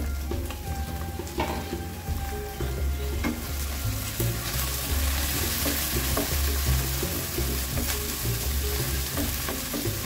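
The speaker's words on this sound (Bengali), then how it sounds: "পেঁয়াজগুলো হালকা ভেজে আসলে আমি চিংড়ি মাছগুলো দিয়ে এটার সাথে ভেজে নিব।" Shrimp and onions fry in a pan with a steady, loud sizzle, broken by frequent scraping and clattering strokes of a spatula as the mixture is stirred, with no talking.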